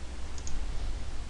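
A computer mouse clicked while working in Illustrator, two quick light clicks in close succession early on, faint over a steady low background hum, with no talking.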